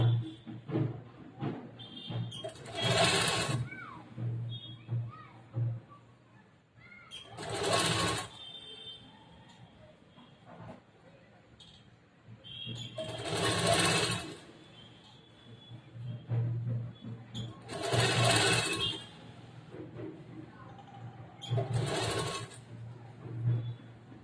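Sewing machine stitching a 40-inch blouse, running in several loud bursts a few seconds long separated by quieter pauses, close by with no talking.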